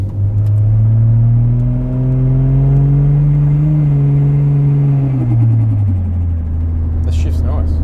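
A Barra-powered Holden car with a ZF six-speed transmission pulls away, its engine note loud and close, rising smoothly through a gear before easing off, while people talk.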